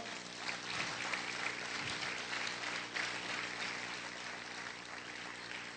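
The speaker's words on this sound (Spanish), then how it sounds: "¿Cuántos pueden aplaudir fuerte al Señor?" A church congregation claps loudly and steadily, a continuous wash of applause heard somewhat distant and muffled, with a low hum underneath.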